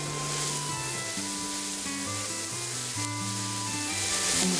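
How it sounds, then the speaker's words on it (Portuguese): Onion sizzles in olive oil with a bay leaf in a pan, a steady, close frying hiss that continues throughout, overlaid by a sequence of tonal notes in the background. "Vamos refogar essa cebola."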